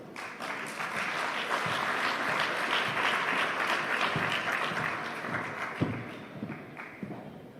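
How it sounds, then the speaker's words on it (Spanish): Sustained applause from a large conference audience, a dense wash of clapping that stays steady throughout with a few louder claps standing out. "Recibámosla con un fuerte aplauso."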